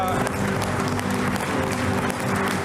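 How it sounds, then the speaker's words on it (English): An audience claps in a legislative gallery, a dense, steady burst of applause from many hands, close and continuous, with some crowd noise mixed in. "I think you were premature on that clapping"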